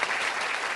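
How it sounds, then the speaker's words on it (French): Brief burst of studio audience applause in a radio studio, a dense, even wash of clapping heard alone and held at a steady level. "On peut l'applaudir bien fort, Sabine Urtrel."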